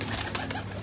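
Pigeons on a Karachi rooftop give soft, brief cooing calls over a steady low background hum, moderately close, with no voices.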